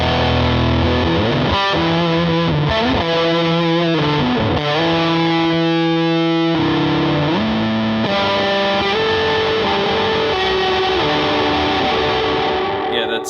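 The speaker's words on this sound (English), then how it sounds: "it's a distortion reverb sound" Loud, sustained electric guitar drenched in fuzzy distortion and washy reverb, notes and chords ringing together into a dense, droning wall of sound.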